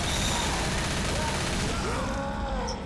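Dense, continuous gunfire from the video game Left 4 Dead, a steady rattling fusillade under players' voices talking.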